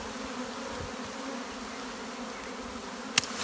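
A swarm of bees buzzes steadily inside a skep basket, a dense, continuous drone at moderate volume with no talking, broken only by one brief sharp tap near the end.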